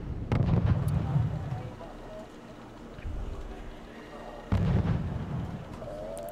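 Armored cars fire their guns in the Wargame: European Escalation strategy game, two deep rumbling bursts of booming fire separated by a quieter stretch of low background battle noise.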